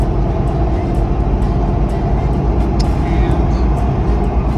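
A Hummer H1 cruises in the slow lane of a freeway, giving a steady rumbling road and engine drone with wind noise inside the cabin.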